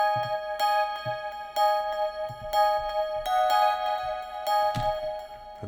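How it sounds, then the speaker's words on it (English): Omnisphere bell tones layered with a slightly detuned Poly 6 synth, a steady repeating pattern of bright bell-like notes with a soft low thud under each strike, clear and close. "I think I've got that layered underneath with this Poly 6 here."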